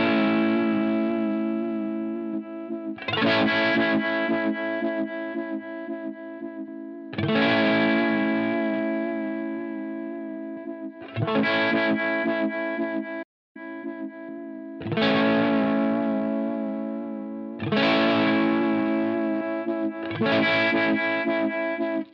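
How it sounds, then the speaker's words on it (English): Electric guitar through a Line 6 Helix Ubiquitous Vibe set to high intensity, sustained strummed chords swimming in a heavy, wobbling warble, several repeated phrases with short gaps, loud and close with no talk. "You're going to get a much heavier warble to the sound."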